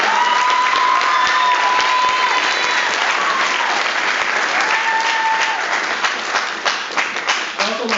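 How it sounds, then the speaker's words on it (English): A large audience at a military change of command ceremony claps steadily in a sustained round of applause that thins toward the end, with faint voices underneath. "I'd like to begin by giving Sergeant First Class Reyes and Lieutenant Colonel Sorizo a big round of applause"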